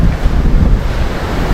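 Strong wind buffets the microphone at a seaside fishing spot, a loud continuous low rumble with ocean surf washing underneath and no voices.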